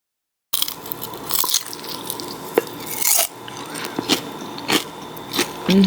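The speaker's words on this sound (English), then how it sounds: "here's the crunch so you can listen to it" Crispy ghee-cooked potato gets bitten and chewed close up, giving a string of sharp, loud crunches at uneven intervals with no talking.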